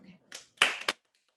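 A few hand claps, about three distinct bursts close by and fairly loud, separated by short gaps, then silence.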